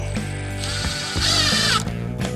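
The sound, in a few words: putting screws in, golf cart seat build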